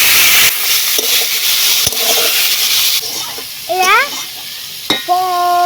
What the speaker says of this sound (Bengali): এবারে দিয়ে দেবো কুচিয়ে রাখা সবজিগুলো আলু বিনস গাজর